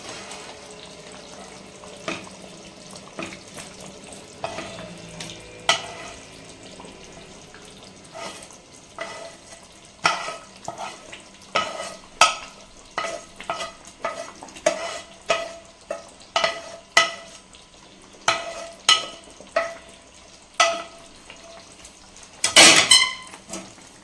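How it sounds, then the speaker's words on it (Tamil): A spoon repeatedly scraping and knocking around a pan while a thick paneer gravy stirs and faintly sizzles, steady strokes growing more frequent and louder. "ஒரு மிக்ஸ் கொடுத்துடலாம்."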